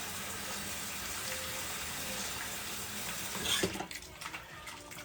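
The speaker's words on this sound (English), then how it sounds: "I have a little bit of that iceberg lettuce. I'm just going to go ahead and give this a quick rinse. Cold water" Cold tap water runs steadily into a kitchen sink to rinse iceberg lettuce, a continuous close splashing rush that stops near the end, leaving faint clatter.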